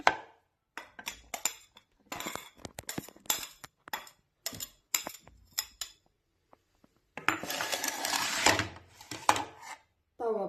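A knife cuts vegetables for a salad on a board, with quick clicking taps in irregular bursts, then a denser run of rustling cuts, close and fairly quiet.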